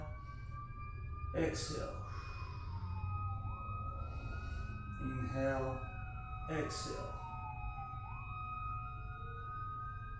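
Wailing ambulance sirens sweep up and down outside a garage, steady and moderately distant, continuing under a calm voice coaching slow breaths.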